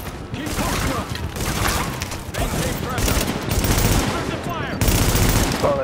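Rapid sustained gunfire in the video game The Division at Grand Central Station, dense bursts of shots with brief gaps, loud and close, with talk over it.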